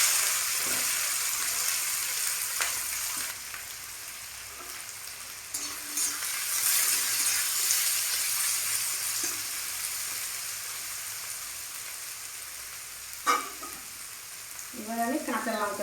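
Garlic and ginger frying in a pan with onion about to be added, a continuous sizzle broken by occasional scrapes of stirring, ending with a brief clatter.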